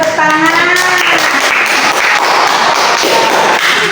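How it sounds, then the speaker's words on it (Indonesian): Classroom students clapping together, loud and close, with bursts of hand claps mixed with children's voices and some background chatter throughout. "beri tepuk tangan"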